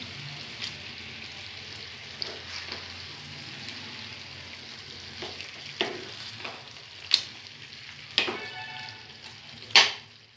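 Eggs fry in a pan of green chili egg curry, a steady soft sizzle with scattered sharper spikes as they are stirred and turned, close and alone.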